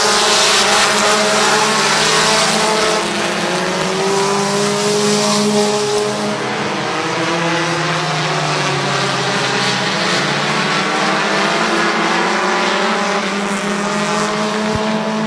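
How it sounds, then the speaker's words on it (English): Compact race cars roar around Midvale Speedway in a heat race at the 2020 fall classic, several engines blending into a loud, continuous, droning howl with occasional tire squeal and no talking. "Final heat race for the compacts is green."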